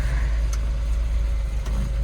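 A fuel-injected 1969 Volvo engine running as heard from inside the car, a deep steady rumble with slight fluctuations and no talking.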